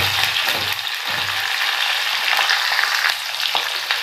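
Finely chopped mild green chillies, three or four of them, hit frying cumin in a pan and raise a steady, loud sizzle, with a few scrape-like ticks of stirring running through it.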